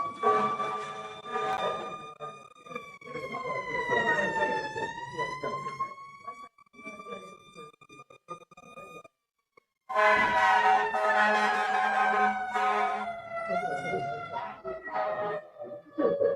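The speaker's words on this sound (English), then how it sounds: "all of our windows are open and therefore the sirens are far louder than they know" Wailing emergency sirens, heard through open windows during a township council meeting, rise and fall, loud and continuous, with a brief pause before another siren cycle resumes.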